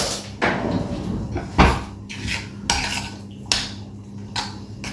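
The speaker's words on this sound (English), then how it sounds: "Give that a quick stir." A spoon stirs Sri Lankan chicken curry with fresh coriander in a pot, giving a few distinct scraping knocks against the metal spaced about a second apart, with a soft rumble between them.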